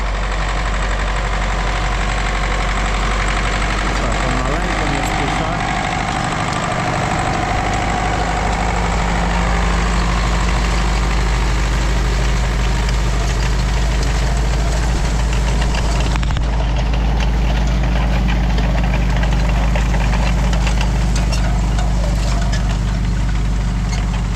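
A YUMZ 8240 tractor pulls a Nodet seeder sowing wheat in a field, its diesel engine holding a steady, loud, low drone with a faint knocking texture throughout and no voices.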